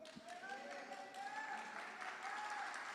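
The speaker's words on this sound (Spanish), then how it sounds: "Aplauda a Dios fuerte porque Él se merece lo mejor de los aplausos" Church congregation applauding God during a Spanish-language sermon, a steady wash of clapping with a few voices and whistle-like tones riding over it, moderately distant and continuous.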